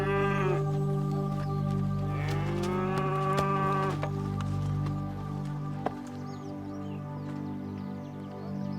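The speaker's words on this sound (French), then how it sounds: "Je t'ai ramené ta vache." A cow moos several times, long drawn-out lowing calls up close, layered over a steady low hum with no talk.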